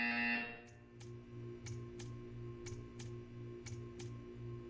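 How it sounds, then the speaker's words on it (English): A buzzer in the video game Portal 2 sounds in a steady train of short, evenly spaced pulses over a low electronic hum, following a brief loud tone at the start. "You will hear a buzzer."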